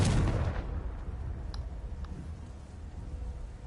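A Confringo blasting spell goes off in the Hogwarts Legacy video game, a loud booming burst at the start that rumbles away into a lingering low roar, with a couple of faint sharp ticks afterward.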